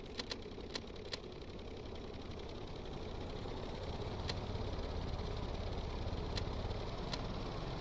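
A seaplane engine in the Stormworks sandbox game drones steadily at takeoff power, the low rumble building slightly over time, with a few sharp keyboard clicks breaking through near the start and later.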